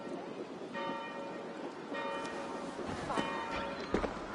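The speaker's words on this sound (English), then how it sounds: "Do you not hear the bells?" Church bells ring in the Assassin's Creed Valhalla video game, repeated tonal strikes at a moderate distance over a soft rain-like hiss, with occasional faint knocks and footsteps.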